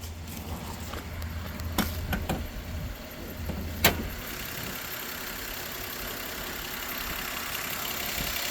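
A 1995 Toyota Land Cruiser 80 Series VX Limited engine idles quietly with the hood open, a low steady hum with a few clicks and knocks early on, no talking.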